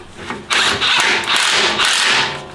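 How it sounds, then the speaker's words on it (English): A power tool snugs up the steering rack bolts on a first-generation Toyota Sequoia from 2001-2007. It gives several loud, close whirring bursts with short pauses between them. "I'm just going to start by snugging up all of these bolts"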